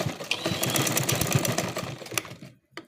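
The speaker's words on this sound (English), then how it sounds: "That's where I'll stop sewing." A sewing machine runs in a steady fast rattle, stitching a trouser waistband where the flap joins, then stops abruptly, followed by a faint click.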